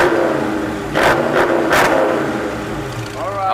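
A car exhaust revs in track mode, giving three quick, loud throttle blips close by over a steady engine rumble, with people talking in the background.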